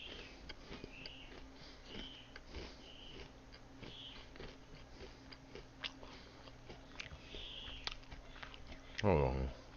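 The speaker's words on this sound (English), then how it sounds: "Sorry for the chewing in your ear." Close-miked chewing of food, soft wet bites and mouth sounds repeating irregularly right against the microphone, ending in a louder burst.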